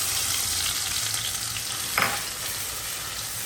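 Drumstick leaves (murungai keerai) being fried and stirred with a spice paste, for Tirunelveli kootanchoru, make a steady close sizzle with the scrape of a spoon and a brief brighter crackle in the middle.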